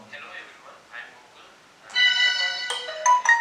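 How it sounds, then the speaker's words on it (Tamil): A smartphone sounds a bright, ringing alert tone from a PIR motion-sensor security alarm system. It comes after a few soft spoken words and plays for over a second, loud and close. "நோட்டிஃபிகேஷன் ஆட்டோமேட்டிக்காக வரும்."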